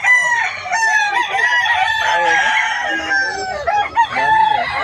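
Hens and roosters at a pet market cluck and crow together, a busy, close chorus of fowl calls layered over one another, with a loud crow rising through the middle.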